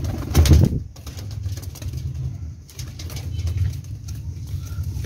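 A Sialkoti Cross Teddy pigeon opens with a sharp, close flurry of flapping wings, then settles into a low, throaty rolling coo that repeats softly under faint background noise.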